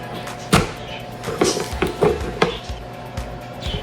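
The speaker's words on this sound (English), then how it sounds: "So I've got my apple wedger." An apple wedger pressing through apples in a kitchen, a series of sharp crunching chops and knocks spaced irregularly, close and fairly loud, with no talking.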